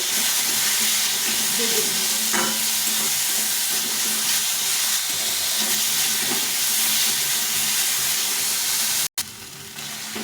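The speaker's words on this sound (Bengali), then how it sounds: "এভাবে ভালো করে একটু ভেজে নিতে হবে" Mashed flat beans frying in a pan with turmeric and salt, giving a steady close sizzle and hiss with occasional stirring scrapes throughout.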